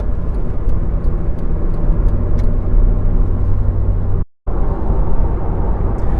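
A car decelerates off a motorway along a slip road and a sharp bend, heard from inside as a loud, steady engine and road rumble that continues throughout, with one momentary dropout, and no speech.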